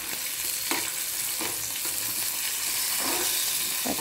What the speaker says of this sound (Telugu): పచ్చిమిర్చి ఫ్రై అవ్వడం స్టార్ట్ అయింది